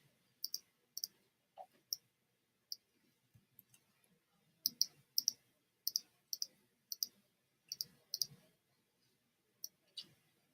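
Computer mouse clicking, sharp single and double clicks in irregular bursts, close and quiet with long pauses between, no talking.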